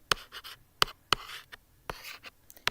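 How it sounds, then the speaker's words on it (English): A marker or chalk scratches across a board in a lesson, with sharp taps and short scraping strokes in an irregular rhythm, close and clear, with no talking over it. "So you can write here the OH ions"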